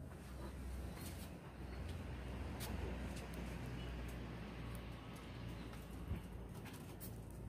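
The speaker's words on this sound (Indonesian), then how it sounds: "inilah merpati tinggian" A high-flying pigeon coos softly outdoors, faint and somewhat distant, over a steady background rumble that suggests nearby traffic.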